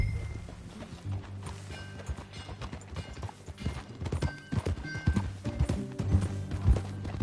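A horse in Red Dead Redemption 2 clops along with irregular, fairly close hoofbeats that grow louder and busier partway through, with tack rattling softly and no one talking.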